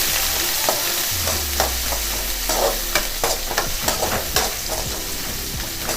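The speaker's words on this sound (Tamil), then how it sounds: "வெங்காயம் போட்டு நல்லா வதக்கிக்கலாம்" Onions sautéed in a pan for a kaadai (quail) gravy sizzle loudly and continuously, while rhythmic scraping stir strokes and clinks of the spatula cut through and a low hum runs beneath.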